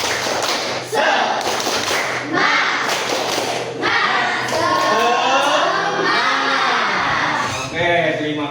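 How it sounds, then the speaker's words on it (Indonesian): A classroom group performs rhythmic tepuk semangat clapping in short loud bursts of claps and taps, close and energetic, with voices chanting along over the pattern. "STP-nya tepuk semangat ya, kawan. Tepuk semangat."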